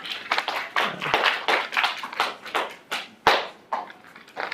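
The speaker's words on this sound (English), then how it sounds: "Let's give them a round of applause, folks." A small classroom audience claps with scattered, uneven hand claps for a few seconds, fairly close and moderately loud.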